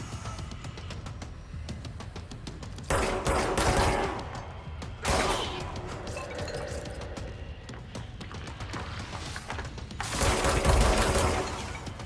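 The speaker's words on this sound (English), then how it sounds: "I'm shooting him" Gunfire rattles through a shootout in the video game Control, with sustained bursts of rapid shots several seconds long over constant background combat noise.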